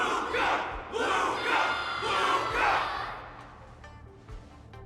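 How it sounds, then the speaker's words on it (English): A crowd in the Honkai Star Rail martial arts tournament event roars and cheers in repeated rhythmic surges, loud and full, fading toward the end. "Can't you hear? Everyone's cheering for you, Luca!"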